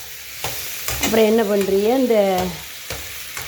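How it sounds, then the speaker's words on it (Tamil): Small onions frying in a pan while being stirred, a steady close sizzle with scraping strokes running under a person speaking. "இதையும் போட்டு நல்லா வதக்கணும்."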